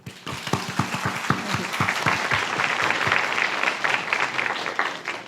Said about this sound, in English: Now, let's give a warm round of applause to welcome Dr.